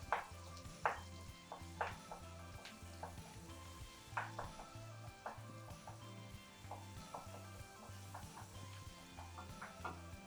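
Roast garlic sizzles in a hot open pan as it is pushed and bashed about, a soft continuous frying hiss broken by intermittent scrapes and knocks of a utensil against the pan.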